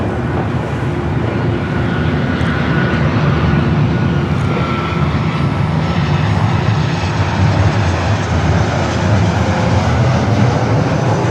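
A Boeing 767 airliner taxiing toward the runway at Los Angeles International Airport gives off a steady, loud jet engine roar, continuous and broadband with no talk over it.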